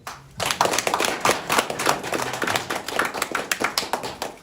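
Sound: audience applause

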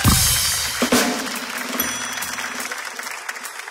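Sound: studio audience applause

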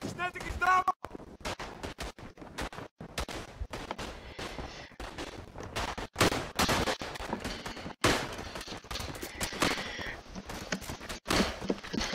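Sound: machine gun fire in the video game Tannenberg

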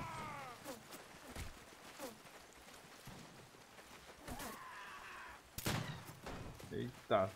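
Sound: gunfire in the video game 16th Century

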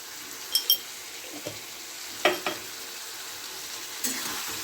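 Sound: turmeric and salt spice paste frying in a pan

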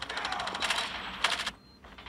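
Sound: sniper rifle shots in Call of Duty Mobile video game

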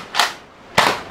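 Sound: toy gun firing soft bullets

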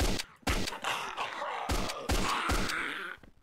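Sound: gunfire in a PS1 Call of Duty zombies video game

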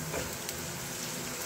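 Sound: onions frying in a pan

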